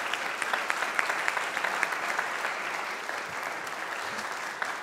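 Following a piano performance with orchestra at a Yuja Wang master class, the audience gives steady, fairly dense applause with a few sharper individual claps, continuing evenly and easing slightly toward the end.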